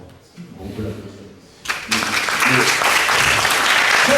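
A crowd at an evening campfire gathering of a summer camp breaks into loud, sustained applause after someone speaks briefly, the clapping starting abruptly and continuing strong to the end.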